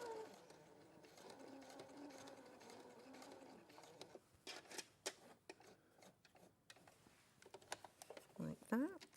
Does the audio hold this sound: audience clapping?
no